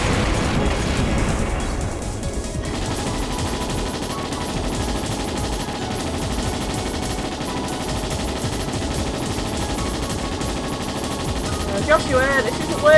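Dense game combat from Trails in the Sky SC, with sustained rapid gunfire and booming explosions from a missile attack filling the whole stretch, loud and continuous, with a brief sharper burst near the end.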